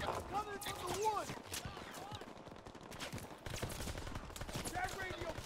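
Call of Duty WW2 firefight with continuous rattling gunshots and bursts of automatic fire, fairly quiet and dense, while voices shout over the shooting.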